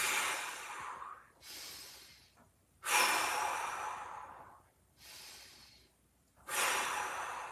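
Deep, slow breaths taken during a floor-based mobility exercise, each long airy inhale and exhale heard close and alone, repeating in a steady cycle of about three breaths.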